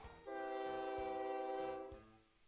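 A goods train in a railway simulation game sounds its horn in one long sustained blast with a faint rhythmic wheel clatter beneath, heard alone without talk.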